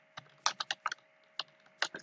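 Typing on a computer keyboard, about a dozen crisp close key clicks in uneven bursts with short pauses, no talking.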